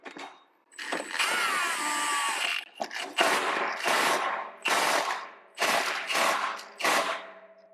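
Impact wrench driving a primary clutch bolt back onto a Polaris RZR Turbo in a garage, several short loud bursts of rattling hammering with brief pauses between them, plus a squealing start.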